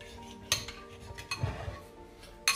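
A utensil stirs an eggplant sauce with balsamic vinegar in a pan, giving a few close metallic clinks and scrapes at an uneven rhythm over a faint background, with no talking.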